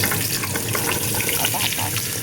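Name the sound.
carrots sautéing in hot oil in a pan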